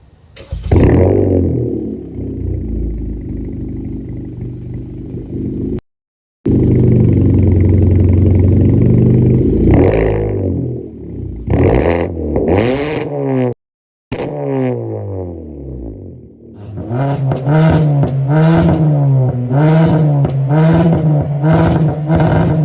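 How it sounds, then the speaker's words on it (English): A car engine with a custom exhaust tip and resonator and muffler deleted cranks and starts, then revs repeatedly with a loud, throaty exhaust roar that rises and falls, close up and without talking. "we'll go ahead and fire it up real quick and give it some revs"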